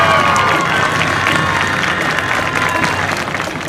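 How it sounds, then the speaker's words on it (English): A stadium crowd at a Texas high school homecoming football game between the Sanger Indians and the Howe Bulldogs applauds and cheers the homecoming king, a loud, sustained roar of clapping and shouting that eases slightly toward the end. "The crowd that you hear is the applause for the homecoming king, Jordan Jones"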